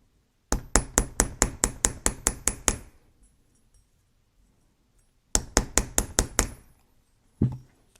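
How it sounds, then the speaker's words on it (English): A nylon hammer flattens jewelry wire on a bench block for chandelier earrings: two quick runs of about ten sharp taps each, separated by a pause, then one last single tap. "I'm going to grab my nylon hammer and flatten this out"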